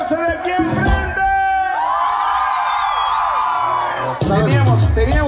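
A crowd at a rodeo dance event shouts, whoops and cheers loudly and steadily, with a voice calling out over the din at the start.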